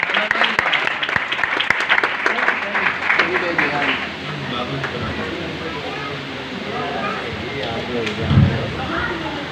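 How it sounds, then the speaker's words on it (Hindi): An audience in a church claps loudly for several seconds, the applause gradually thinning into murmuring voices and crowd babble. "आप सबकी भरपूर तालियों के साथ एक बार"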